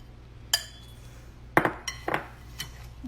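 A fork clinks against a bowl while stirring apple cake batter, a handful of sharp, separate metallic taps and scrapes at irregular intervals over quiet background.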